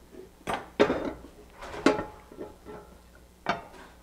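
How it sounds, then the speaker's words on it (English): A potato cake is flipped out of a pan onto a plate, with several separate clacks and knocks of pan and dishware, close and fairly loud, with short quiet gaps between them. "I'm going to try to flip this out onto a plate and flip it back over"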